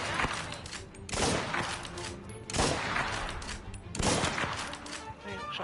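Rapid bursts of gunfire from a Mafia video game gunfight, loud and dense, with repeated volleys roughly every second or so and no clear gaps between shots.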